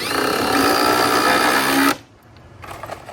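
Power drill driving screws into a board during a mini-split installation, a loud whirring burst lasting about two seconds, then a short quieter rattle.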